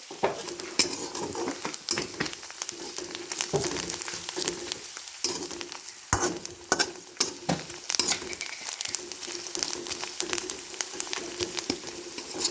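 Ground mixture roasting in a pan, stirred continuously with a spoon, giving a steady run of scraping and faint sizzling with occasional metallic taps and clinks, close and moderately quiet.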